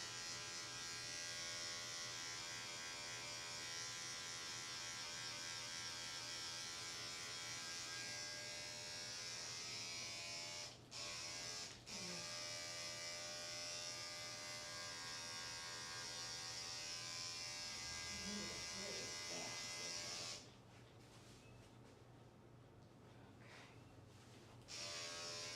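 Electric clippers buzz steadily and close while shaving matted fur from a pet wearing a cone, with a constant motor hum that briefly cuts out twice and changes pitch near the end.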